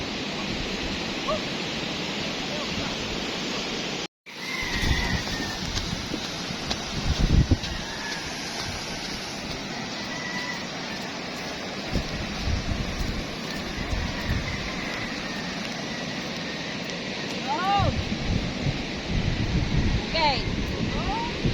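Big ocean waves roar steadily with a broad, constant wash of surf and wind, briefly cut off once, then swelling louder again near the end.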